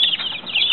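A flock of about thirty chicks, two and a half weeks old, in a henhouse, chirps and clucks in a constant high, dense chatter without pauses.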